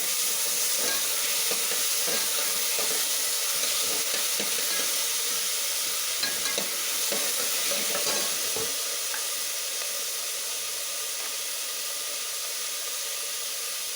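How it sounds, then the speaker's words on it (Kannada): Chopped tomato fries in a pan for ladies finger sambar, a soft continuous sizzle and hiss with scattered light stirring taps early on, growing calmer and quieter toward the end. "ಹೀಗೆ ಒಂದು ಸ್ವಲ್ಪ ಫ್ರೈ ಮಾಡಿ."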